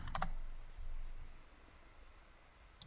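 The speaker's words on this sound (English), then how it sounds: "And double click to open the editor" A computer mouse gives a quick double click, faint and close, with a single soft click following a few seconds later against a quiet room hiss.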